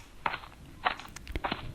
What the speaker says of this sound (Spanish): La madera crujía bajo mis pies.